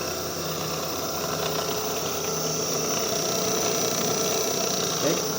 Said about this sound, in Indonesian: Release button ini saya akan aktifkan, maka ketujuh motor ini akan berputar.